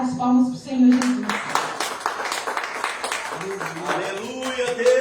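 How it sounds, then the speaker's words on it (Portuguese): A congregation claps in rhythm during a Wednesday worship service held at a home, the sharp hand claps mixing with singing and voices that rise and fall over several seconds. "Palmas para o Senhor Jesus."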